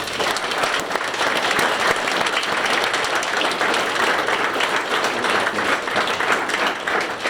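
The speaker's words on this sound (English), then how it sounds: "Give these guys a round of applause." Sustained applause from an audience at a school pathway celebration honoring co-op students, a dense, steady wash of many hands clapping at even loudness throughout.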